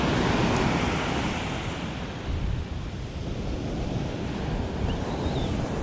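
Ocean waves breaking on a Florida beach while fishing from shore, a continuous broadband wash of surf with gusting wind buffeting the microphone, fairly loud and steady with no voices.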